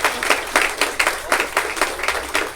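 Applause at a mushaira and kavi sammelan poetry gathering, a crowd clapping in steady overlapping bursts that swell and dip in a loose rhythm, fairly loud and close, with no voices over it.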